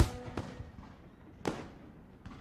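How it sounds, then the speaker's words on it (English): Fireworks in the visual novel game Katawa Shoujo, with two sharp bursts about a second apart, each fading into a low rumble, and a fainter third pop at the end. "Whoa! Fireworks!"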